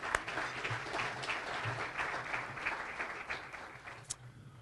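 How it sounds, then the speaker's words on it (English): Moderate applause rises from guests at a chamber of commerce luncheon, steady claps with a few sharper ones near the end. "Let's give them all a round of applause."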